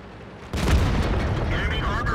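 A tank gun firing in a combat video game: a single loud, sudden blast followed by a sustained rumbling decay.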